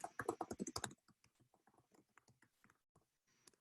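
Typing on a computer keyboard: a brief burst of loud, rapid clicks at the start, then softer, scattered key taps that slow and fade, heard close and alone.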